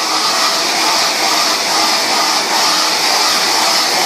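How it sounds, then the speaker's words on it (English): A hair dryer runs steadily and loudly throughout, a constant broadband whooshing roar with no pauses. "use the blow dryer"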